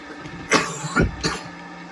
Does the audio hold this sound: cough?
yes